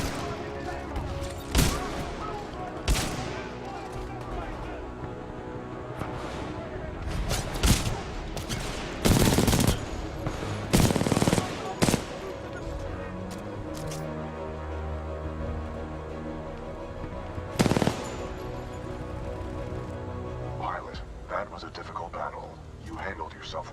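Supporting gunfire from a Titan in Titanfall 2, with heavy bursts of shots and booming impacts scattered across a battle, mixed with mechanical rumble and voices speaking in between.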